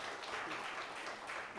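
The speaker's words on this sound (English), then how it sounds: "Let us give a big clap to the" Faint, steady applause from an audience at a Ruby Jubilee inaugural ceremony in Kottayam, a soft continuous wash of clapping with no clear individual claps standing out.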